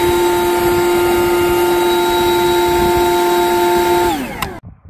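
A Milwaukee battery-powered high-power leaf blower runs at a steady, loud, tonal whine, then winds down and cuts off near the end, leaving a brief quiet tail.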